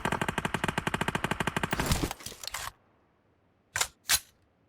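Rapid automatic gunfire from the PUBG Mobile battle royale game rattles loudly for about two seconds, then breaks into scattered shots, followed after a pause by two short separate bursts.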